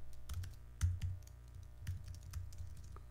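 Fingers tap on a computer keyboard in quick irregular bursts of soft clicks, with one firmer keystroke, close and quiet in a still room.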